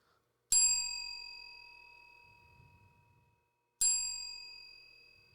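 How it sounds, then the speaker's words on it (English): A small bell gives two clear, bright dings a few seconds apart, each ringing out and slowly fading in an otherwise quiet room. "Give me the bell. We're going to bell again."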